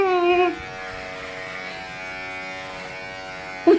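An electric shaver buzzes steadily close up as hair is shaved, a sustained hum running for several seconds after a brief burst of a voice at the start.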